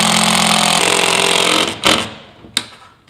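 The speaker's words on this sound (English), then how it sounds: "I can just screw anywhere I want." A power screwdriver drives screws through drywall into plywood backing, whirring loudly and steadily for about a second and a half, then a short burst and a sharp closing snap.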